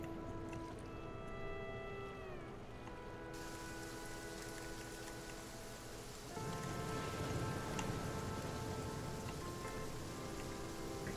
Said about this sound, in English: Small town, shops loot, heavy rain. Alright, so it's just gonna be forever raining.